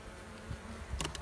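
A colony of bees living behind a brick wall gives off a faint, brief buzzing hum, with a couple of sharper insect buzzes passing close near the end.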